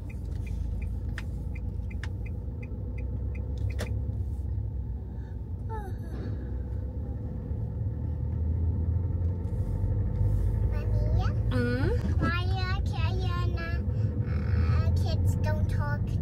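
A car driven along a road gives off a steady low rumble that lasts throughout, with voices talking over it.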